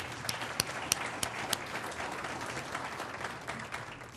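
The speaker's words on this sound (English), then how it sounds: "If you can give them a round of applause for me" An audience at a health policy summit applauds to welcome a workforce panel. Steady crowd clapping is punctuated early by several sharp, close individual claps, then settles into an even, sustained wash.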